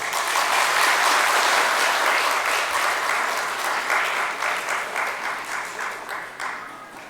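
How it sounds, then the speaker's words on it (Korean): A church congregation at Sunday worship claps in blessing after a prayer for a child, a broad, even wash of applause that slowly tapers off over seven seconds. "우리 한번 축복의 박수 할까요?"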